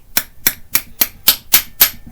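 Seven evenly spaced, sharp hammer taps drive a rear main seal into place on a Subaru EJ25 engine, loud and close, with nothing else heard.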